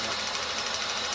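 A car engine runs at a steady idle, its rapid even knocking and mechanical buzz loud and close, with no change in pitch.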